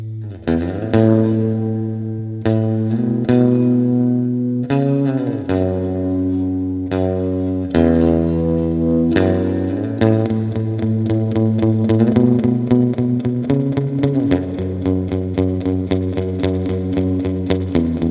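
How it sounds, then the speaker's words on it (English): An electric guitar played through a JHS reverb pedal plays a slow melodic line of sustained notes and chords, drenched in lush, lingering reverb with long decaying tails. "This reverb sounds so musical"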